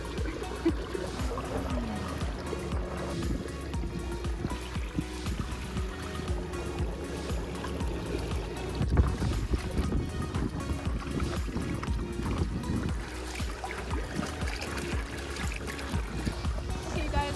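A motorized inflatable paddleboard catamaran moves across open water with continuous splashing and churning close by, a low hum running underneath throughout.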